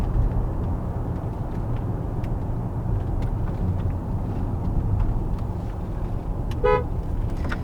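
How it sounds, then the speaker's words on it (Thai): A Hyptec HT electric car sounds its horn once, a short loud toot rising over steady road and cabin noise near the end. "แตรคันนี้ก็ดังดีนะครับดังดีมากด้วยเนี่ย"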